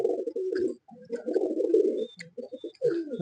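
Soft, low pigeon cooing in repeated throaty phrases, close by, with brief pauses between calls.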